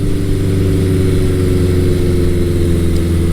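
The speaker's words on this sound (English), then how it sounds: "I'm going to run this bike a little bit further down the road before I get into some twisties and kind of open it up" A 1983 Suzuki GS1100 motorcycle engine runs steadily on the road, a loud, close, continuous mid-pitched drone with even throb and no talking over it.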